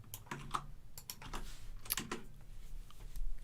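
Typing on a computer keyboard, a steady run of quick, uneven key clicks at close range, quiet and alone with a low background hum.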